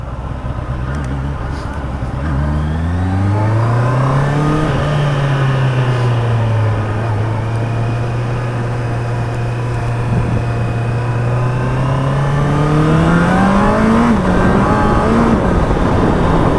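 A Honda CBR650R motorcycle engine revs up steadily, holding a loud droning exhaust pitch, then climbs again in a throaty roar close by.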